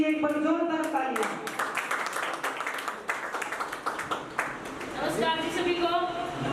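Audience at an office opening celebration claps loudly in a dense burst of applause, with voices talking over it.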